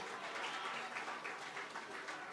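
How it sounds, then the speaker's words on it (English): A gala audience applauds a sponsor, a dense, even patter of many hands clapping throughout a short burst. "Give him a round of applause."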